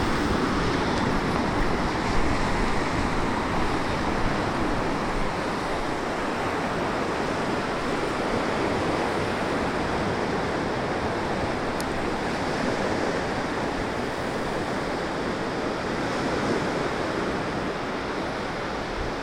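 Rough sea waves crash and surge continuously, a loud, dense roar of surf with wind noise buffeting the microphone and no voices.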